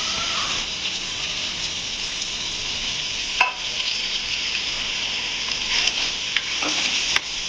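Sliced onion, green chillies and curry leaves sauté in a hot pan for a beef roast, giving a steady, loud sizzle with a few sharp crackles and stirring clicks throughout, no voices.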